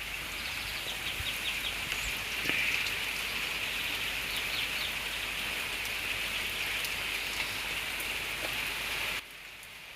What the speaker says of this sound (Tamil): இன்றைக்கி எங்கள் வீட்டில் மழை சத்தத்தை காலையிலே கேளுங்க